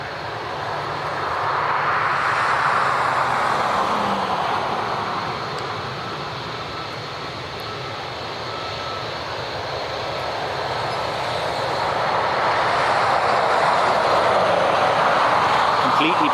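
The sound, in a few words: all-black ATR turboprop aircraft passing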